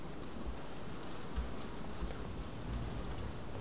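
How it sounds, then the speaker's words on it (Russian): Steady rain patters in Roblox Doors, a soft continuous hiss with faint low thumps, heard alone at low level. "Я там слышу дождик, опять"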